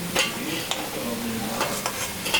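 Coconut and palm fritters sizzle in hot oil as they are stirred and lifted out, with a steady close frying hiss and a few sharp clinks of a utensil against the pan.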